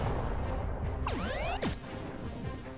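A Chaos Cannon strikes in the space strategy game Halcyon 6, a loud crashing impact with sweeping, descending and rising synthetic whooshes over a dense rumbling game background.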